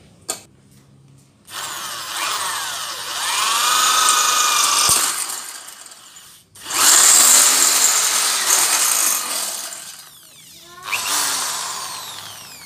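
An NRT Pro 500HD electric hand drill cuts into a 1.5 mm iron plate, whining loudly and close in several long bursts separated by short pauses and brief clicks.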